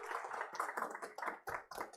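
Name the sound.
audience applause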